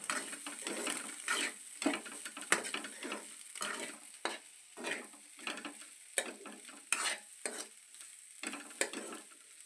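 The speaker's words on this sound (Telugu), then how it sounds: "పొడి పొడిలాడుతూ మంచిగా ఫ్రై అయిపోయింది ఎగ్స్ అన్నీ" Eggs and onions frying together in a pan while a spatula scrapes and stirs them, with repeated bursts of sizzling and scraping in an uneven rhythm, close and moderately loud, with no voices.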